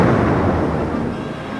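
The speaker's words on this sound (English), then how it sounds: "Suddenly, a big storm came up and the ship was broken down." A storm sound effect for a ship breaking apart at sea rumbles loud and dense from the start, a broad roaring crash that slowly eases over a second and a half.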